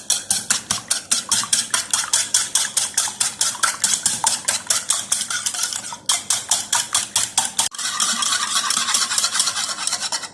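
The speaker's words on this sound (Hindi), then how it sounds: "अच्छी तरह मिक्स करूंगी।" Eggs whisked briskly in a bowl for chocolate cake batter, a fast, even run of loud scraping strokes close by that continue without pause except for one brief break.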